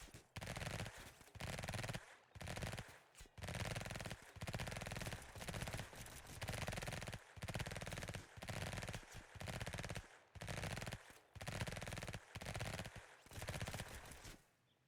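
Rapid bursts of machine gun fire in a video game, loud and sustained, broken by short pauses, with a voice faintly under the shooting.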